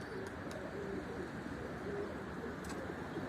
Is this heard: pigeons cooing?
yes